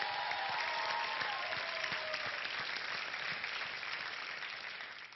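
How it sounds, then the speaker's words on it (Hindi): Dense, steady audience applause on a televised talent show stage fills the whole stretch, a broad even clatter of many hands that slowly eases toward the end. "ऐसी माँ के लिए एक बार जोरदार तालियां हो जाए लेडीज एंड जेंटलमैन"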